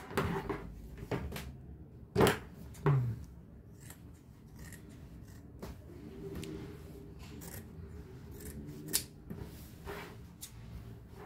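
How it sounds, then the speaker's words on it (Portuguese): Scissors snip through a milk carton in a few sharp, close cuts early on, then soft rustling and handling noises of the cardboard follow in a quiet indoor space. "Essa caixinha de leite aqui, eu já posso cortar."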